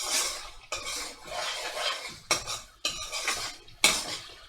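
Madras curry base being stirred in a hot pan, with bursts of spoon scraping and clanking against the metal alongside a light sizzle, in irregular strokes close up.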